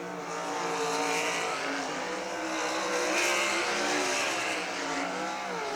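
Race cars roar steadily around the dirt oval at Millstream Speedway during a heat race, a dense, continuous wash of engine noise from the pack with no break or lull.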